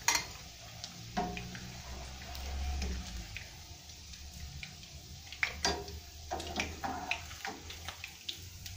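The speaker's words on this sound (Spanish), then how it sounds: "Vamos a quitar estas y vamos a seguir friendo las demás." Rice fritters with cheese fry quietly in a pan, a faint sizzle running beneath clinks and scrapes of a utensil against the cookware, with a low hum in the background.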